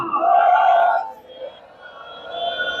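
A large crowd at a Punjab political rally in the Khadoor Sahib constituency roars back the Sikh jaikara war cry in one loud, sustained collective shout, which then fades into a quieter murmur.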